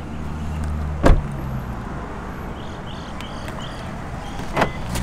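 A Subaru WRX S4 door is opened using keyless entry: two short, sharp clunks of the latch and handle, a few seconds apart, over a quiet outdoor background.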